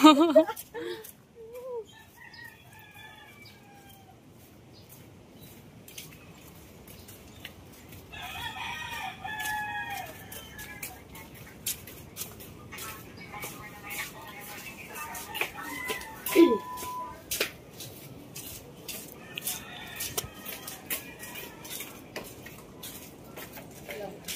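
Chickens and roosters in a yard strewn with typhoon-blown debris cluck and crow repeatedly, with several drawn-out crows near and farther off, and people talk intermittently underneath.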